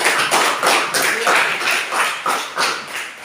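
Audience clapping at a self-acceptance session for teacher trainees, loud and close with distinct rhythmic claps pulsing in waves, no voices over it.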